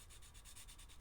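Faber-Castell graphite pencil rubbed against a sanding block, a steady dry scratchy rasp with a regular back-and-forth pulse, close and quiet, with no voices.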